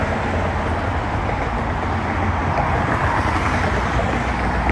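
Steady, dense roar of freeway traffic in San Jose, California, a continuous broadband rush of passing vehicles with no breaks, fairly loud and constant throughout, with some wind buffeting.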